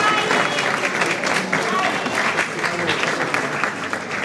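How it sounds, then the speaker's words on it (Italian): Audience applause at an exhibition opening ceremony, a sustained dense clapping from a crowd lasting several seconds at fairly close range. "Zaissa, a quale chiediamo un applauso"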